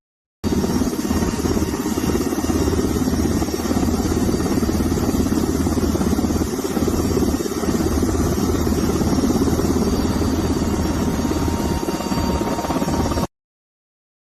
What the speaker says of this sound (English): Helicopter air-to-air refueling.